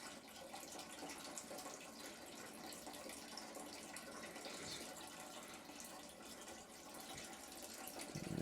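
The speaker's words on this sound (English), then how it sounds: "And that's the pump just moving around the water, if you can hear that in the background." A hydroponic garden pump circulating water, a faint continuous trickling and flowing wash that stays steady in the background and swells slightly at the end.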